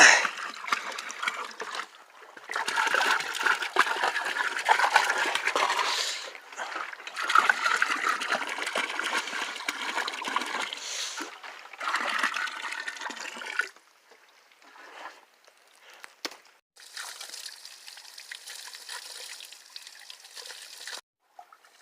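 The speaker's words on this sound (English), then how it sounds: "Well, nice, I got these barrels. Filling them up." Water gushes steadily into rain barrels beside a house in strong, close splashing bursts, then drops to a thinner trickle before swelling again near the end.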